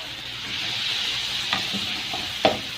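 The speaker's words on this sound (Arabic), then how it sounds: "واقلب بقى كل المكونات دي كده مع بعضها" Ingredients seasoned with black pepper and salt are stirred in a hot pan for a makeshift mock trotters dish, giving a steady low sizzle with a couple of sharp utensil scrapes near the end.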